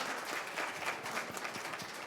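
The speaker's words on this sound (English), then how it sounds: "So you all could clap for that because it was a really big feat." An audience at a lecture applauding, a faint, even patter of many hands clapping at a distance for a couple of seconds.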